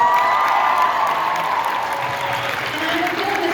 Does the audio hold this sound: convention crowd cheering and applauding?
yes